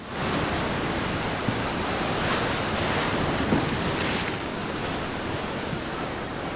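Rough Arabian Sea waves at Fort Kochi beach in monsoon weather, heard as a loud, steady wash of surf and wind that fills the whole stretch with a few faint bumps, and no voices.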